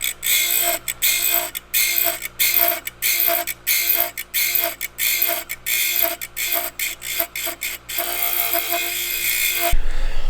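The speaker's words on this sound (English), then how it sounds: "So then we put the ring in after we filed it and deburr it." A piston ring being filed to gap for a 2000hp Duster drag engine rebuild, heard as a steady run of rhythmic metal rasping strokes, close and loud, with no talk.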